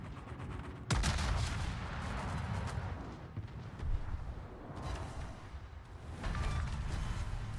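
Battleship secondary guns firing in World of Warships, a dense, continuous barrage of booming shots with sharp blasts at intervals, loud and close, no talking.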